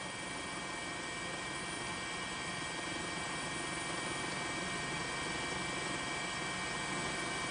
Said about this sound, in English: live coverage from our camera crew on a helicopter in Sendai